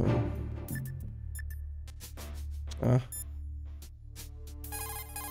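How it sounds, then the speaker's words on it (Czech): A Codec call ringing in Metal Gear Solid 2: Sons of Liberty on PS5, a repeated electronic ring that pulses on and off over low game ambience, with a sharp louder burst near the middle. "A teď teda zavolám tomu Otakonovi teda"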